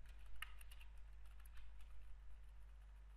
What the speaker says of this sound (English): I'm just typing Afghanistan